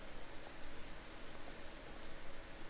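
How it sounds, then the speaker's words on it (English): Rain falls steadily in the video game Slender Threads, a soft, even hiss of drops hitting surfaces with no talking. "Okay, it's raining now."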